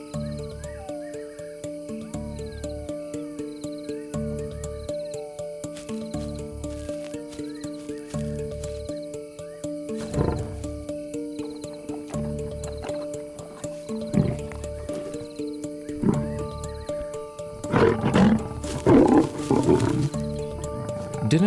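A lion family feeds at night on the African savanna, with deep growls and roars that grow louder and more frequent toward the end over a steady tonal music bed.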